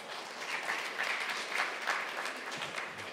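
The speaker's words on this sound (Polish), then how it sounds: "Dziękuję za 4 klaski" A small audience applauds briefly in a church sermon setting, a short, fairly quiet burst of scattered claps lasting a few seconds.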